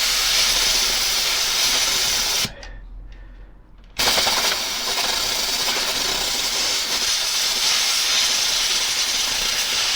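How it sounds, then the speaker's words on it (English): A loud, continuous hiss of compressed air from an airline blasting degreaser residue off the chain rollers of a Triumph Bonneville motorcycle, broken once by a short pause of about a second before the blast resumes. "So I'm just going to give it a blast with the airline."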